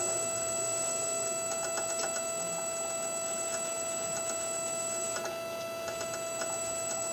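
A small brushed motor runs in reverse through a brushless ESC converted for brushed use, holding a steady close whine with a faint, rapid ticking underneath.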